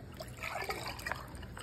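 Fresh natural coconut water poured into a glass, a soft continuous trickle and splash close by for under two seconds, with faint background murmur.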